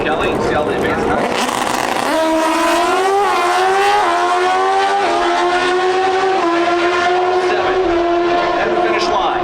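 Pro stock motorcycles drag race toward the finish line at the NHRA Route 66 Nationals in Chicago, their loud engines winding up in rising, shifting whines under an announcer's commentary.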